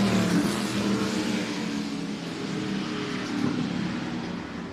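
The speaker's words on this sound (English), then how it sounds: "Great sound. Full throat, small block with open headers." A small-block race car engine with open headers roars loud and steady at full throttle at a speed festival, with a harsh, throaty exhaust note that swells and eases slightly.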